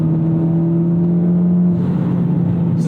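A modified car's engine during a heel-toe downshift from the cabin: a loud, steady droning hum with strong tones, then a change in engine note partway through as the revs shift.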